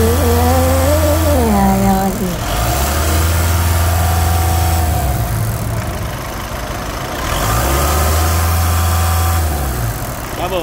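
Engine of a Volkswagen Amarok pickup revving while parked, rising and falling in several long swells that are capped at a fixed limit, with a steady idle rumble in between. It is close and loud, with no talk over it.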